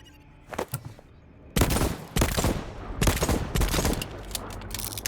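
Rapid bursts of gunfire from a newer revolver-type gun in the video game VoidTrain, with a few sharp shots first and then several loud, close clustered volleys separated by short pauses.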